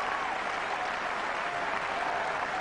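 A big cricket crowd at Trent Bridge breaks into sustained applause, a steady dense clapping wash that holds evenly throughout with no one speaking over it.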